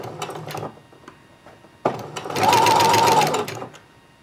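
A sewing machine stitches stretchy fabric for a pair of shorts: a few short bursts of clicking, then a longer, fast, steady whirring run that slows and stops.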